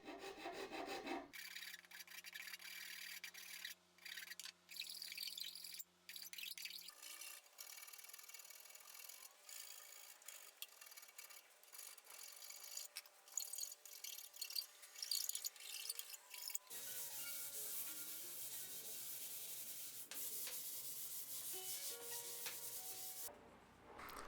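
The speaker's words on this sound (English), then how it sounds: "For the edges that the router couldn't reach, I had to resort to, hand tools." Hand tools shaping and sanding the edges of a wooden rocking bassinet, a steady rasping rub that runs in long continuous strokes, close and fairly even, with a few brief pauses and a shift in tone partway through.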